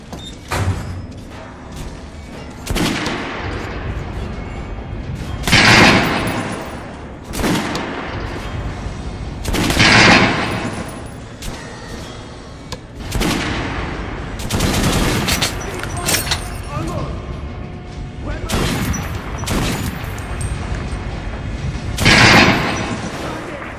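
Automatic gunfire in the video game Metro: Last Light Redux, from a lightweight fully automatic weapon that overheats, heard as sustained rattling bursts with several louder booming peaks and voices speaking throughout.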